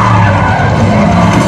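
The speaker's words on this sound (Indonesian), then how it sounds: "Di sana, mobil John terguling" Car skidding loudly during a John Wick 4 chase that ends with the car rolling over; dense, continuous tire and engine roar fills the short burst with no pause.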